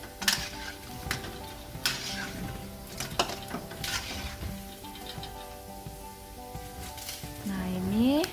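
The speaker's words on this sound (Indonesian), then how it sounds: "Nah ini kita goreng-goreng lagi, kita balik-balikin lagi ya, biar matangnya rata." Pempek fish cakes fry in a pan with a steady crackling sizzle, punctuated by sharp clicks and clatters of a utensil turning them, ending with a rising squeak.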